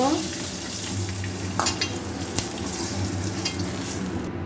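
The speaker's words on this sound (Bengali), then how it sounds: "আমটা একটু নেড়ে চেড়ে নেব তেলের মধ্যে" Mango pieces stirred and fried in oil for a fish curry, a steady close sizzle with scraping stir strokes and brief clatters throughout, no talking.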